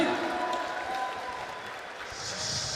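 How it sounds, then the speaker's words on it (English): Applause and crowd noise for wrestler KoKo B. Ware at a wrestling event, a steady moderate ovation under a busy arena atmosphere. "Let's get a round of applause for KoKo Beware."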